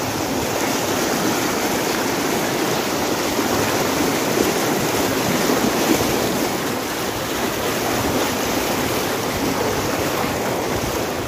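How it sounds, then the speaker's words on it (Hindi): Fast-flowing deep river water rushes loudly and continuously nearby as it is crossed, a steady broadband roar with no voices. "बहुत गहरी नदी थी और पानी का कोई ज़्यादा आइडिया भी नहीं था"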